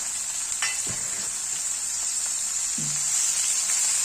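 Two long-sliced onions fry with asafoetida in a pan for a spiny gourd vegetable dish, a steady close sizzle broken by a few soft scrapes of stirring, with no talk.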